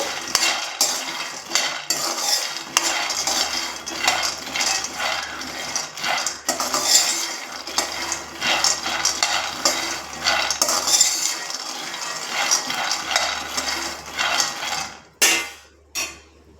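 Groundnuts roast in a pan while a spoon stirs them, giving continuous scraping and rattling of nuts against metal, close and fairly loud, with brief pauses and a few sharp knocks near the end.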